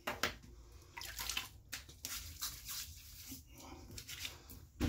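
Running water rinses a razor and face during a wet shave at a sink, a steady close splashing flow with brief bursts and pauses, no speech over it.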